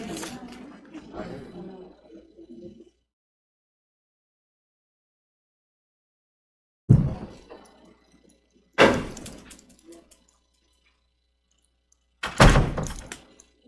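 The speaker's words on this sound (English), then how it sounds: "You may want to close that door." In a county planning commission meeting room, a voice murmurs before a pause, then a door is pushed closed with several heavy thunks spaced a few seconds apart, each loud and close.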